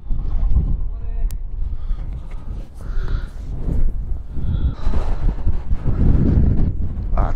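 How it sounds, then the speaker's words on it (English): Strong wind buffets the microphone in loud, continuous roaring gusts at derelict flooded dry docks in Liverpool, with someone talking over it. "Ah, it's too windy today, mate."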